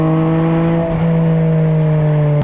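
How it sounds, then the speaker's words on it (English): Porsche Boxster Spyder RS engine, its air intakes sitting just over the occupants' shoulders, holds a steady, thin and tinny drone at near-constant revs, close and loud with no talking. "It's a very tinny kind of sound, not what you expect from a Porsche really."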